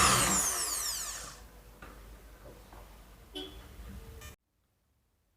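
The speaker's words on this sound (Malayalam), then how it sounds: "നല്ല RPM-ൽ തന്നെ തിരിയുന്നതുകൊണ്ട് പെട്ടെന്ന് ഹോൾ ഇടാൻ സാധിക്കുന്നുണ്ട്." A DCK electric drill bores a hole into wood, its high whine strong at the start and then fading into quieter grinding and ticking before stopping abruptly, close to the microphone.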